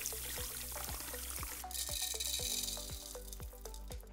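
Water poured from a Ninja coffee maker carafe into a sink, a continuous splashing stream with bubbling glugs, close and loud, ending in a brief rush as the flow spills out.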